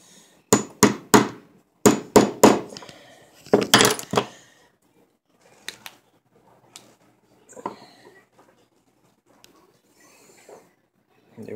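A hammer taps a metal rod while winding a coil: three sharp clustered groups of bright metallic strikes close up, then softer, sparser taps and handling clatter trailing off.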